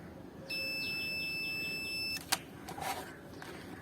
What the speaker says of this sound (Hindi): मीटर जो है हमारा बीप किया